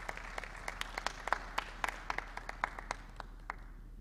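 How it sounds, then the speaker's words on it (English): Sparse, scattered clapping from a small audience at a Bhagwat Katha religious gathering, individual claps standing out irregularly over a low steady hum, fairly faint and thinning out toward the end. "give a round of applause for him"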